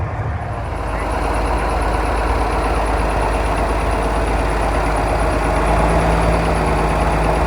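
An antique tractor engine idles steadily nearby at an outdoor farm show, a constant low rumbling drone with no breaks and no voices.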